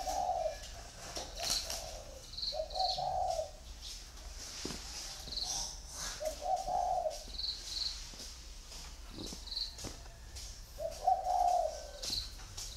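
A caged turtle dove coos in repeated soft phrases every few seconds, with insects chirping steadily in the background and occasional faint knocks nearby.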